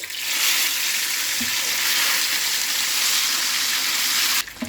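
Fish frying in smoking-hot mustard oil for a Bihari fish curry, a loud, steady, close hiss of sizzling that holds evenly for several seconds and then cuts off near the end, with no talking.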